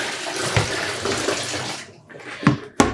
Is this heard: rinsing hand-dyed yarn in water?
yes